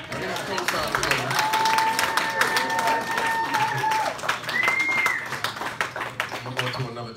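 Applause and clapping from a comedy club crowd fill the room, loud and sustained, with whoops and voices mixed in over the clapping.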